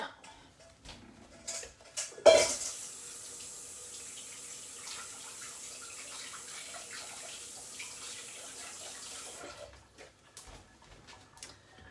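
A kitchen tap runs steadily for about seven seconds while hands are rinsed clean of a spicy mixture rubbed onto a whole fish with limes; a sharp clatter opens the flow and the water cuts off near the end.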